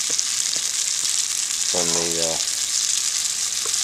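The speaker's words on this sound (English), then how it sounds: "just kind of stir it around with the stick if you can there" A cobbler is stirred with a stick over a hot campfire, giving a steady sizzle and crackle throughout. A short tonal whine briefly cuts in midway.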